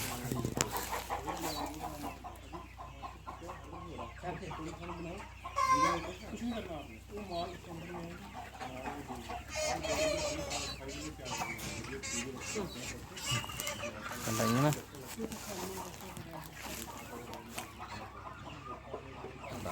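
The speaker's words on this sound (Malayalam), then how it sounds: "അതാണ് കോഴി ഫോം" Chickens cluck and squawk throughout a large chicken farm in Maharashtra, a dense flock of overlapping calls with louder bursts, while people talk over them.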